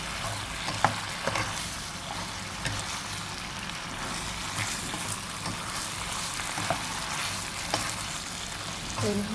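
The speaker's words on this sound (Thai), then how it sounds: "ก็ผัดเลยค่ะ" Kale stir-fried with minced pork and soybean paste in a hot pan, a steady crackling sizzle throughout with occasional clinks of a spatula, close and fairly loud, with no talking.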